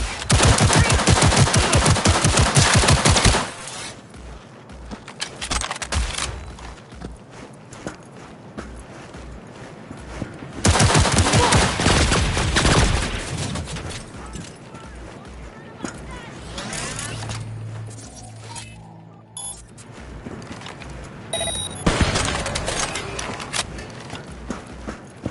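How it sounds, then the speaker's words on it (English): Rapid bursts of gunfire from a close-range shootout in Cyberpunk 2077 come in loud clusters separated by quieter stretches, with character voices talking in between. "I'll shoot him down!"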